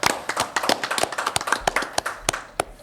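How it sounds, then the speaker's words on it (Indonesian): An audience at a contract signing for TOSS pellet sales for co-firing claps in a brief, crisp burst of separate hand claps from a modest crowd, uneven and close, thinning out near the end. "Tepuk tangan dulu semuanya."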